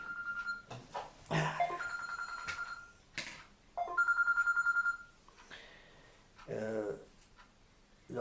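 A mobile phone ringtone rings in repeated tonal bursts during a French Catholic spiritual talk, with someone speaking between the rings.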